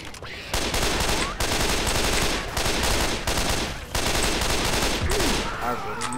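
Loud, near gunfire from guns in Left 4 Dead 2, including an M60, rattles in sustained automatic bursts separated by brief gaps, with occasional voice fragments underneath.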